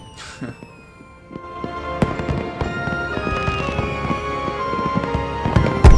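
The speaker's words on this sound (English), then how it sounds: "It seems these fireworks are a happy thing." Celebratory fireworks in the MapleStory game, a busy series of pops and crackling bursts over a sustained musical backdrop, fairly loud and continuous, with no one speaking.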